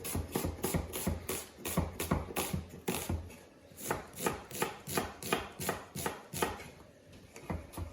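A knife slices through a root vegetable on a cutting board, with steady, rhythmic chopping strokes close by, about two per second, with a brief pause midway and no talking.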